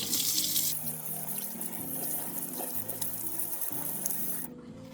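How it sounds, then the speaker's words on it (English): Clean running tap water pours steadily over hands being rinsed at a kitchen sink before cooking, a continuous close splashing wash that cuts off abruptly near the end. "Rinse your hands under clean running water."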